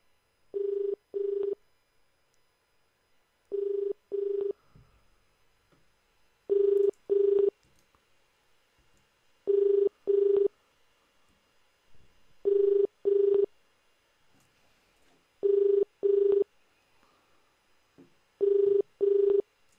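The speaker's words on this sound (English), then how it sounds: "Oh, hang tight, we have a phone call." A telephone rings in a regular pattern of paired electronic trills, about seven double rings spaced evenly, clear and close against near silence.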